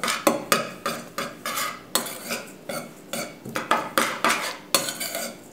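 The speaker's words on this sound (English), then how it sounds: "Now we're going to mix all of this together." A spoon clinks and scrapes against a bowl in quick, uneven strokes while seasonings are mixed together for a paleo pizza crust, close and fairly quiet with no talking.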